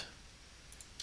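Backspace and other keys pressed on a computer keyboard during 3D modeling work in Autodesk 3ds Max 2010, heard as a few faint, sharp clicks late in a quiet stretch.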